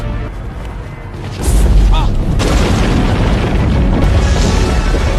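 A deep, heavy boom erupts partway through, followed by a sustained loud rumble and roar that fills the rest of the clip.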